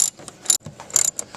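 Ratchet clicking while tightening car seat mounting bolts during a frame-up car build, short bursts of sharp metallic pawl clicks with brief pauses between strokes, close and clear.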